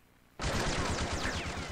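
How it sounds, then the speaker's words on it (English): Sudden loud burst of video game gunfire erupts after a brief quiet moment, a dense sustained volley of rapid shots that fills the rest of the clip without talk. "It sounds like gunfire."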